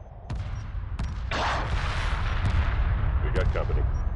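Weapons fire in Homeworld 2 Remastered: a dense barrage of sharp cracks and heavy booming blasts in a space battle, loud and continuous, with radio-style voice chatter mixed in.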